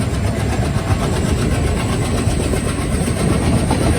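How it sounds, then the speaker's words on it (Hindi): The diesel engine of the Yoga Express train on the Ahmedabad to Rishikesh route runs steadily, with a loud, dense rumble and rolling noise heard from on board and no one talking. "डीजल इंजन के साथ चलती है।"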